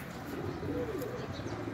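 Taddy pigeons coo softly in low, rolling murmurs, faint beneath a steady hiss of background noise.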